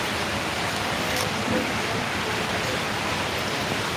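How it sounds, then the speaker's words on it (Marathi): Steady rain during the monsoon season, a dense continuous hiss with no pauses, fairly close and unbroken for the whole stretch. "आणि पाऊस पडत आहे बघा"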